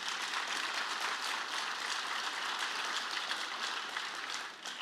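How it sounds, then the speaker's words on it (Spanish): Sustained applause from a church congregation fills the space steadily and evenly, a dense wash of clapping at moderate volume with no voices standing out. "Dele ese aplauso al Señor si usted lo cree."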